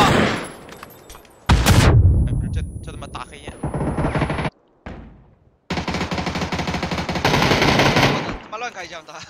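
Rapid automatic gunfire in a video game, loud and bursty, with sustained machine-gun volleys broken by short silent gaps and a heavy blast near the start.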